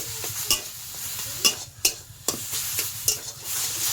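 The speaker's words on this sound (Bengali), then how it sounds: "এবার এটাকে সুন্দর করে আমি ভাজা ভাজা করে নেব।" Boiled taro leaves being stir-fried in a pan, with a soft steady sizzle broken by repeated sharp scraping strokes of a spatula, close and fairly quiet with no talk.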